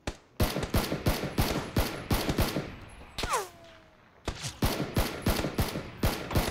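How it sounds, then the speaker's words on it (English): Rapid gunfire in a battle royale video game: a dense run of loud, evenly spaced shots, a short pause with a falling whine, then another fast volley of shots. "Motherfucker must have been shooting me from the catwalk"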